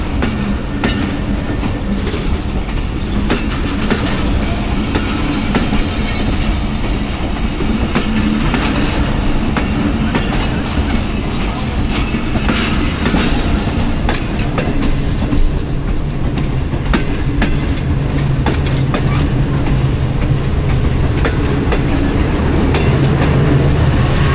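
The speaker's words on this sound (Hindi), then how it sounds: "अब रहमान बाबा एक्सप्रेस भी चली गई" The Rahman Baba Express pulls out of Attock City Junction toward Peshawar, a loud, continuous rumble of passing coaches with rhythmic clickety-clack of wheels over rail joints throughout, close by and without voices.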